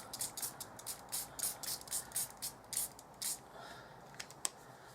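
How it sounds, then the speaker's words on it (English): A small handheld spritzer bottle sprays water onto a watercolour painting: a quick run of soft, hissing puffs, a dozen or so short bursts, faint and close. "I've got a little spritzer. I'm just going to spray it."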